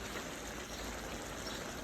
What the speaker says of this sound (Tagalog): Maya ihulog natin yung dugo.